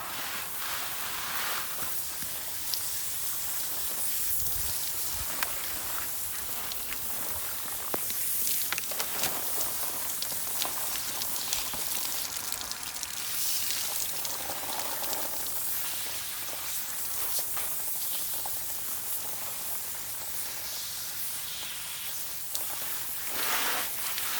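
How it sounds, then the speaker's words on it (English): Water sprays steadily over freshly dug canna lily rhizomes outdoors, making a continuous loud hiss and splatter that keeps going with only slight changes in strength. "I'll just rinse them off so they're not so gross to deal with after."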